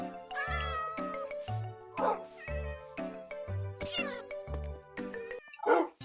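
A cat meows repeatedly in short rising and falling calls, loud and close, with brief pauses between cries and a few sharper whiny outbursts.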